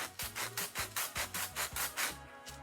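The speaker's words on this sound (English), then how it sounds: "I'm going to sand the bottom of the squishy since it hasn't been sanded yet" Rhythmic back-and-forth rasping of sandpaper on the bottom of a squishy toy, about a dozen even strokes close up.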